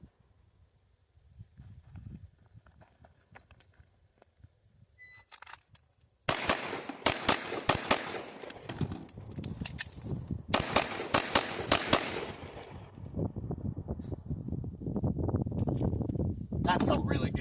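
Pistol fitted with a compensator and an Icarus Precision Echelon grip fires in a fast string of double taps, loud sharp cracks after a quiet start, with a person talking across the shooting.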